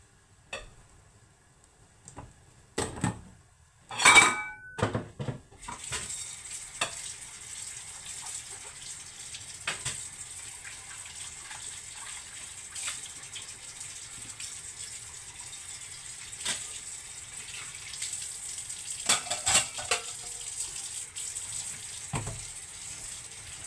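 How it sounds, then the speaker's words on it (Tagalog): Pot of soup at a rolling boil, bubbling softly with light clinks and scrapes of a spoon stirring, fairly quiet and close, a few louder knocks early on, no talking. "Yan, kumulo na."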